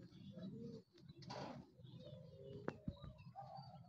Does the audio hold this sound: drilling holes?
no